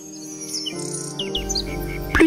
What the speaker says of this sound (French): Sa voix ressemblait à celle d'un rossignol.